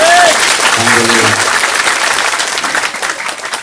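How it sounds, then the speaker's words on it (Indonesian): Strong, dense applause from a crowd listening to an Islamic sermon, a loud close wash of clapping that holds steady for several seconds before easing slightly, with a brief voice at the start. "Tepuk tangan."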